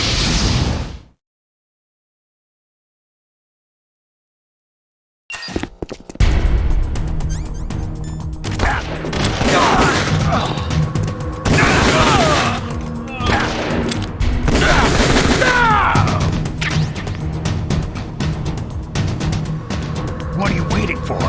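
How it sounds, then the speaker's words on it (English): Gunfire in the video game Metal Gear Solid The Twin Snakes, a dense continuous barrage of shots and explosive crashes after a few seconds of silence, loud and sustained, with voices shouting over the fighting. "Don't talk to me like a rookie! I'm telling you, shoot!"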